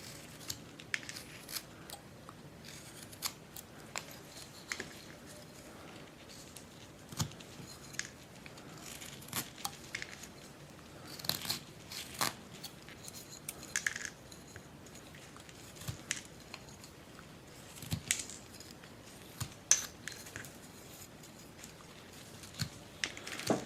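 A knife carves a wooden Pilgrim Man figure in faint, scattered scraping and snicking cuts that come in irregular bursts, close and quiet throughout.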